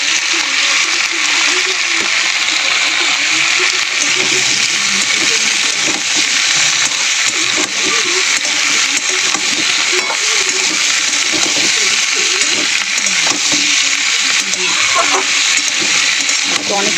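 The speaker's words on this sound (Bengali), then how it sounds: "আনাজের সঙ্গেই ভেজে নেবো" Vegetables, slit green chillies and prawns frying together in a pan, a steady loud sizzle running throughout with occasional stirring and faint voice underneath.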